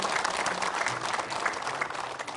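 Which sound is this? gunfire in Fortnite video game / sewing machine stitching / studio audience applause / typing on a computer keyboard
studio audience applause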